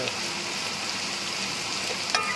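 Onions sautéing in a pan, a steady broadband sizzle running evenly throughout with a few faint clicks and stirring touches, no voices.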